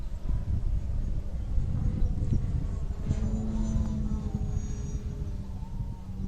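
Electric motor on a Great Planes Giant Aeromaster RC biplane running at a little over half throttle, a steady droning hum with a rising whine partway through, heard from nearby over outdoor rumble.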